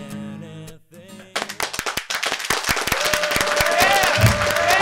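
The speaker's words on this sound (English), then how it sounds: "have another round of applause for Mike Cole" A comedy show audience breaks into applause, starting as scattered sharp claps and building into a dense, sustained ovation with some cheering, after brief talking at the start.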